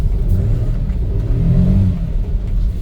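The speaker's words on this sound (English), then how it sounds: "this truck runs out very well" A Daihatsu truck engine rumbles steadily up close, revving with a low, continuous roar and slight rises in pitch.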